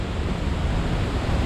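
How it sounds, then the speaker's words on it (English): A waterfall heard up close as hikers approach, a loud, dense, steady rushing roar with no voices. "We're going under waterfall."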